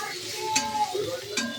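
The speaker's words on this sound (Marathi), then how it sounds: "जरा 5 मिनटं हलवायचं, मग तयार असते भेंडी." Okra is stirred as it fries in a pan: a soft, continuous sizzle with light scraping strokes and a couple of brief utensil clicks, close by, with no talk.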